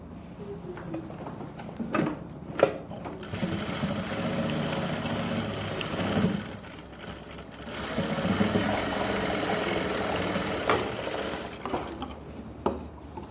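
A sewing machine stitches a neckline design for a garment, a continuous close mechanical whirr with brief pauses, knocks and handling clatter between runs.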